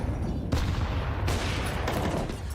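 AWP sniper rifles fire in a Counter-Strike 2 pro match, with two loud, sharp cracks about a second apart over dense, noisy game background.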